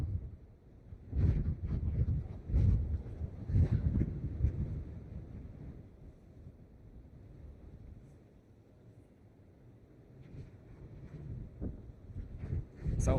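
Gusty wind buffets an outdoor microphone at Dublin Airport, rising into loud low rumbling bursts, easing to a quieter lull mid-clip, then picking up again toward the end.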